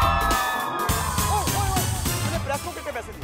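A crowd at the IIFA awards green carpet cheers, whoops and yells in a steady roar, with voices talking near the front.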